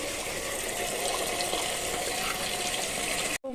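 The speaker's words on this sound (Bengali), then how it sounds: "এই ভাগ্নি আমার বাসন মেজে দিচ্ছে" A kitchen tap runs steadily as dishes are washed beneath it, a continuous close rush of water throughout that cuts off abruptly just before the end.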